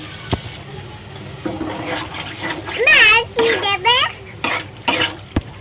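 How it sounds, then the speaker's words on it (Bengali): Chicken being stirred and fried with spices in a pot, with scraping stirs and sizzling under a woman's speech. "ভালো করে মশলাটা কষিয়ে নেব।"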